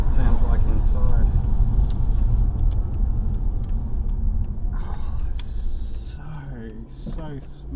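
A rebuilt LS1 V8 engine rumbles heavily from inside the car with the windows closed, a deep, steady drone that shifts as the car accelerates, with a few faint voice-like sounds over the top.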